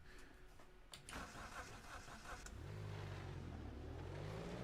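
Race car engine from the iRacing sim game with a Dallara car: an engine catches and starts, then holds a steady, loud, droning idle with low rumbling harmonics.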